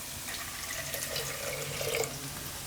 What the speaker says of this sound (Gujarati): થોડુંક પાણી નાખશું એમાં,